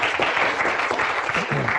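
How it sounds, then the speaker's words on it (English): Applause from a seminar audience welcoming a physics research speaker, a steady dense patter of clapping that carries through the clip, with faint voices beneath it. "I hope you're still clapping at the end."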